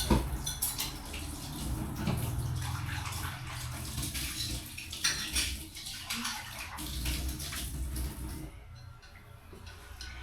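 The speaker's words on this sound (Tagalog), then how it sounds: "Hugasan natin ulit kasi kahapon na hugasan na ito" A plate being washed by hand at a kitchen sink, with steady running water and repeated clinks and scrapes of dishes and cutlery, close and continuous throughout.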